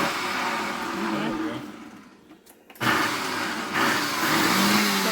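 A kitchen blender pulsed while preparing ingredients for pernil marinade, whirring loudly, cutting out briefly, then roaring back in short bursts, with a person talking over it.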